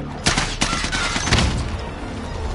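Rapid bursts of machine gun fire in a first-person shooter video game, several loud broadband volleys in the first half and then a steadier rattle of gunfire continuing close and loud.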